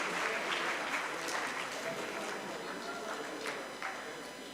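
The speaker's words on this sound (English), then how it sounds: "So please give them a big round of applause" Audience at a physicians' association winter meeting applauds to welcome an arriving delegation, a steady wash of clapping from a sizable crowd with scattered voices, slowly tapering over a few seconds.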